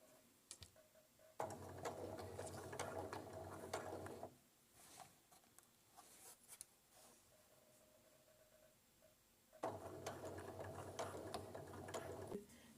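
A sewing machine stitches fabric for a bag in two motorized runs of steady whirring, and between them the handwheel is turned slowly by hand, giving soft mechanical clicks and ratcheting ticks, with no one talking.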